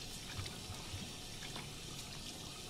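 Water runs steadily from a tap as a character washes his face in the video game Life is Strange 2, a quiet, continuous hissing flow with no voices over it.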